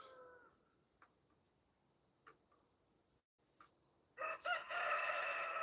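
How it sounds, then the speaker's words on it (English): A rooster crows once near the start and again louder, closer and longer at the end, with quiet faint ticks in between. "Uh-oh, I hear the roosters."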